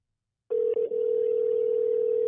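A single steady telephone tone sounds after half a second of silence, with a brief hiccup near the start, then holds as a continuous loud electronic hum on an unanswered call.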